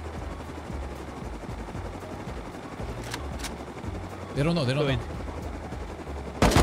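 Gunfire aimed at a helicopter in the survival game Rust, rapid shots cracking under a continuous rotor-like rumble while a voice talks over it, with a loud final burst near the end.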